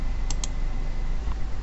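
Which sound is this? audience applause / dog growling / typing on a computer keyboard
typing on a computer keyboard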